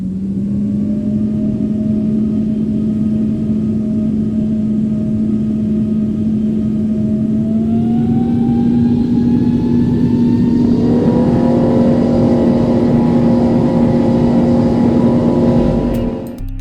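Twin GE90 jet engines of a Boeing 777 in the Roblox game Project Flight roar steadily and loudly, the drone rising in pitch as they spool up, with a second climb near the end before a brief cutoff.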